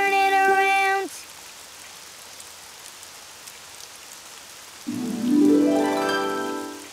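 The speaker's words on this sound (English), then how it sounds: "Oh, it's raining outside." Rain falling outside, a soft, steady hiss, framed by brief tonal, melodic voice sounds from a children's cartoon at the start and end.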